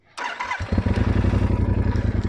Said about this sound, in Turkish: Şimdi boşta bir çalıştıralım.